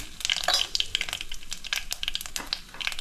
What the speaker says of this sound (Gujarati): હવે આપણું તેલ આવી ગયું છે એટલે એની અંદર આપણે રાઈ નાખશું પછી જીરું નાખશું અને આમાં પણ થોડી હિંગ નાખશું